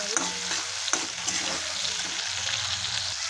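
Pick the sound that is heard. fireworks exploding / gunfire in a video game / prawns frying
prawns frying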